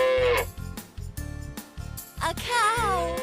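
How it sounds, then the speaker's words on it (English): A cartoonish cow moos in a dairy-farm setting, a few short lowing calls in quick succession amid sheep-like bleats and other farm animal sounds, close and fairly loud. "A cow."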